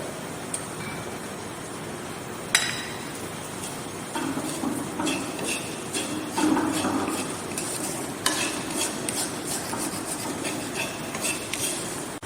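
Suji cooks in ghee over a medium flame while a spoon stirs it steadily, giving a soft continuous sizzle with scraping strokes and occasional clinks against the pan.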